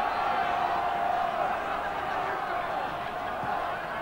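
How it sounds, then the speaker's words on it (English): Crowd at a 1979 rugby union match between the Northern Division and the New Zealand All Blacks roars with delight, a steady, dense wall of cheering voices that holds loud throughout. "the crowd are going beside themselves with delight and with further support for these Northern heroes"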